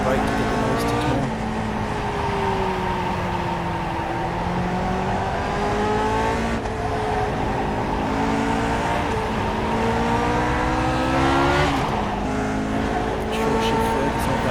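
A Lotus 49 Grand Prix car on the Suzuka circuit in iRacing drones loudly and continuously, its engine pitch rising and falling as the throttle is worked on and off, with brief surges and dips through corners.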